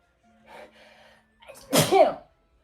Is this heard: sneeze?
yes